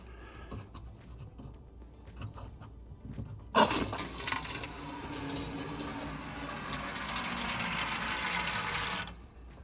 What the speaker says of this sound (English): I'm going to turn on the water for a second and get rid of any debris.